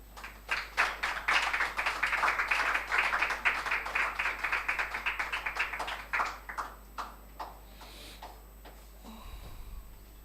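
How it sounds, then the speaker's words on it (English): Audience applause welcoming participants to a university business contest, a few sparse claps swelling into brisk, rhythmic clapping that thins to scattered claps and then stops, heard at moderate distance with no speech. "let's welcome with a round of applause participant from the Heritage Christian University"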